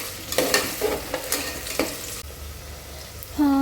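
Green peas fry with a ground paste in a pan, giving a close, loud sizzle with several sharp stirring scrapes and knocks of a utensil against the pan.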